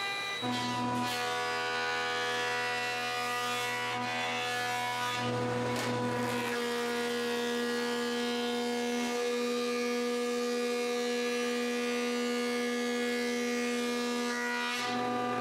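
A CNC machine surfaces applewood with a steady, continuous high-pitched whine and a droning motor tone, close and loud throughout, with occasional shifts as the cutter moves across the board.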